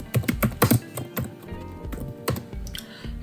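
Fingers type on a computer keyboard while filling in an online university application form: close, quick clusters of key clacks, a brief pause, then a few more taps.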